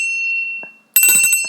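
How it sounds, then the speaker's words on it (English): A hand bell rung during a children's storytime: a lingering ringing tone fades out, then a bright, clanging ring of the bell follows, close and loud. "So now I'm just going to ring my bell again."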